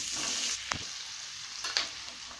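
Curry leaves sizzle in hot oil for poori masala, a steady close hiss with a couple of sharp crackles and pops over it.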